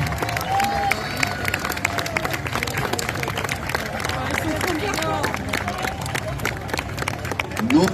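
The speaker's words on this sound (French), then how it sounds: "Les petits comtes de Champagne que je vous demande d'applaudir vraiment bien fort." Crowd applauding and cheering at a costumed medieval festival parade in Provins, dense rapid clapping throughout, mixed with crowd babble and scattered voices, fairly close and sustained.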